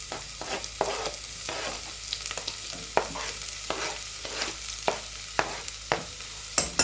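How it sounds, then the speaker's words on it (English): Chopped onions dropped into hot oil in a pan on a home stove, a steady close sizzle with repeated sharp stirring scrapes and taps throughout, no voices. "you can hear the oil is hot because the pan was hot. Yeah, so we add our onions."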